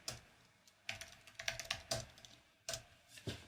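Typing on a computer keyboard during a Kubernetes and Rancher tutorial, irregular bursts of close, light key clicks alone.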